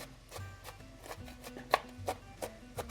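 Onions being chopped with a knife on a cutting board for corn chowder, a run of quiet, evenly spaced taps with a few sharper strikes toward the end.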